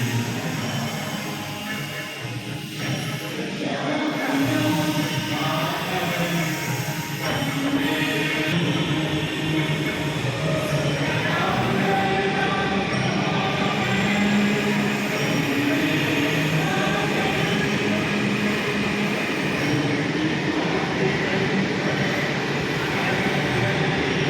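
A train at a railway station, a loud sustained rumble and rattle of carriages with screechy tones and platform bustle throughout, with voices faintly mixed in.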